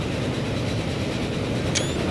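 A train running in the game Transport Fever, a steady rolling rumble of rail travel with a brief high squeal near the end and no speech.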